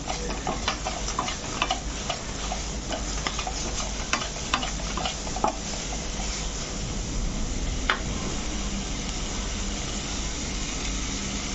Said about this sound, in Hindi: सारी चीज़ों को मिक्स करके फ्लेम को मैं ऑफ कर दूंगी।